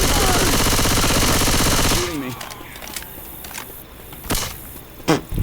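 Loud, dense machine-gun fire from the video game Left 4 Dead roars for about two seconds, then drops away to a quieter game scene with a few scattered sharp bursts.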